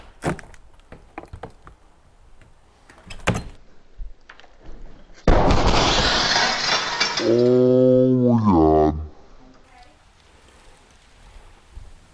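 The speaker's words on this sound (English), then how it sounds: "Yeah, the window fell." An old wood window suddenly falls out of its frame with a loud, sustained crash, followed by a voice exclaiming, then scattered light knocks and rustling.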